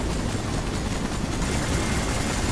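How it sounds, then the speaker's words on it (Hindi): Helicopter in the Spider-Man 3 video game, a dense continuous rotor and engine roar filling the whole stretch at steady loudness, with no talk over it. "ये कौन हेलीकॉप्टर?"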